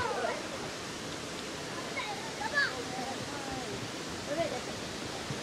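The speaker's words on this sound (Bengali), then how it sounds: "ওই পানির শব্দটাই বেশি মনে হইতেছে, বুঝছো? তোমার বৃষ্টি তেমন না, ওই পানির শব্দ মনে হইতেছে প্রচুর বৃষ্টি।" Rushing water at a Cameroon Highlands stream or waterfall gives a steady, heavy roar much like hard rain. It runs loud and continuous throughout, with people talking over it.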